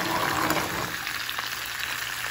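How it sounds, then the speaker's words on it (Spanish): Tomato, onion and guajillo chile sauté in a pan with a continuous, close hissing sizzle that stays fairly even throughout, without speech. "Vamos a sofreír"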